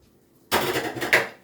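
After a brief silence, a metal wok clanks down onto a hard surface, followed by a short scrape and a second sharper clank.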